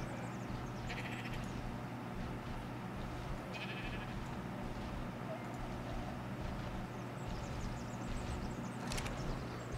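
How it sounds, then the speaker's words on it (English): Sheep bleat in the modded survival game ARK, faint and intermittent over a steady low in-game ambience, with several short calls spread across the stretch. "That's a sheep."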